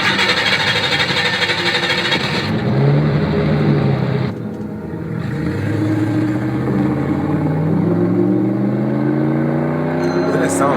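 A restored vintage car engine built in Nigeria runs and revs, its rising and falling engine tones continuous under overlapping talk and background noise.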